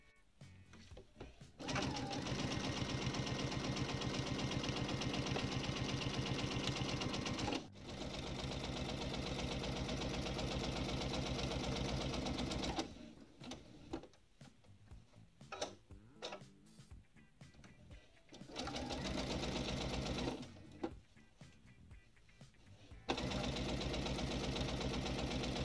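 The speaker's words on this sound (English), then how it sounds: "we're going to sew on the other side of the line" Sewing machine chain piecing quilt squares, running in loud steady bursts of rapid stitching with short pauses and quieter handling between runs.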